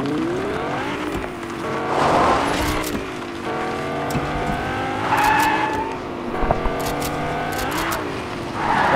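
Lamborghini in the Fortnite video game, engine revving up and down in repeated rising sweeps with tire squeal, loud and close, alone without talk.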